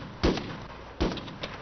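Two distant thudding gunshots ring out roughly 0.8 seconds apart in an ARMA 3 firefight, each a dull boom with a short tail, followed by a fainter pop, all over a quiet background.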